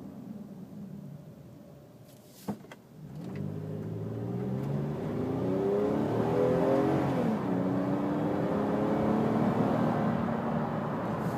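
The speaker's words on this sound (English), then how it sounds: "This is about 3/4 throttle." A 2012 Toyota Sienna SE minivan engine revs up steadily at three-quarter throttle, its pitch rising and sustaining for several seconds; a brief click sounds early on.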